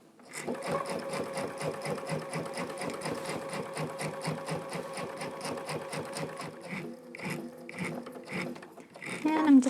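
A sewing machine with a walking foot stitching through a quilt runs in a steady rapid mechanical chatter, close and clear, then slows into a few short bursts as it back stitches near the end.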